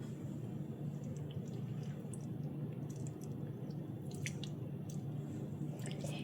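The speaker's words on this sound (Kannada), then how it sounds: "ನಾನು ಮೀಡಿಯಮ್ ಸೈಜಿನ ಟೊಮ್ಯಾಟೋನ ತೊಗೊಂಡಿದ್ದೀನಿ, ಅದನ್ನು ಈ ರೀತಿ ಸ್ಕ್ವೀಸ್ ಮಾಡ್ತಾ ಇದ್ದೀನಿ" A medium-sized tomato squeezed by hand for juice, giving faint, soft squishing and dripping sounds over a low background hum.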